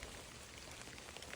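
Rain pours down steadily in a soft, even hiss of drops pattering on surfaces, constant and fairly faint, with no voices.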